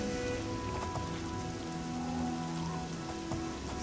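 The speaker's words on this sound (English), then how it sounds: "Especially because it's raining." Steady rain falls on surfaces in Oblivion, a dense even patter that holds at a constant level with no voices over it.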